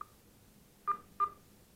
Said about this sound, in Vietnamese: Đây có tin nhắn báo đến